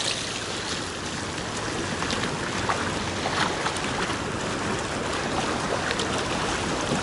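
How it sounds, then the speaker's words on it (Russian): Waterfall pouring into a cold outdoor swimming spot, a steady broadband rush of falling water heard close and continuous, with no talking. "Водопад."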